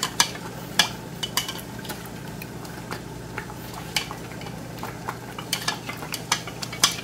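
A spoon stirs pandan leaf juice, tapioca starch and water in a pot, making steady, close, light clinks and scrapes at an irregular rhythm over a low, even background.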